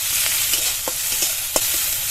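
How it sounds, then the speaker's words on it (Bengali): Onion, garlic, tomato and grated ginger fry in a pan with a steady, close, loud sizzle, broken by a few soft stirring scrapes and taps. "পেঁয়াজ রসুনটা হালকা একটু ভেজে নিয়েছি। এবার এর মধ্যে টমেটো কুচি আর আদা গ্রেট করা দিয়ে দেবো।"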